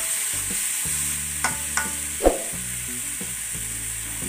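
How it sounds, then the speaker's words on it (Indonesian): Anchovies being stir-fried in a sautéed spice paste for a traditional Indonesian vegetable dish, with a low steady sizzle under a few sharp spatula scrapes and clacks, close up and without talk. "Kemudian ditambahkan ikan terinya yang di bumbu tumisnya tadi."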